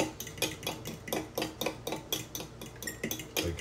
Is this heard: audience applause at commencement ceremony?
no